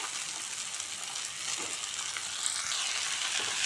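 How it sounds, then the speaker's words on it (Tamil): Cut green beans go into a pan of sizzling sautéed tomato and ginger-garlic paste, giving a steady close frying hiss with faint stirring scrapes and no talking. "இப்போ நம்ம கட் பண்ணி வச்சுருந்த பீன்ஸை சேர்த்துப்போம்"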